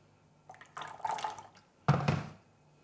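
Water is poured into a quarter-cup measure in a home kitchen in a few short splashing bursts, a softer trickle first and then a louder gush, close up and with no talking.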